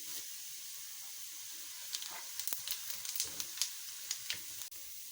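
Cumin seeds sizzling and crackling in hot oil in a pan for a lobia bean curry, a steady frying hiss with scattered sharp pops and spatters, no talking.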